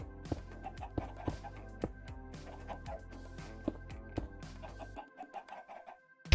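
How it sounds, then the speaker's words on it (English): Minecraft chickens cluck in short, repeated bursts over game background sounds, which drop out near the end before a final sharp sound. "excuse me, chickens"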